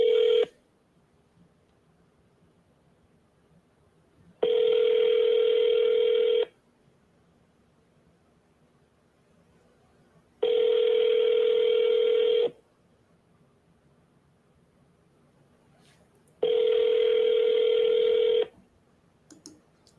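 Phone call ringback tone heard alone: three long, loud, steady rings of about two seconds each, separated by roughly four seconds of near silence while calling a contact again.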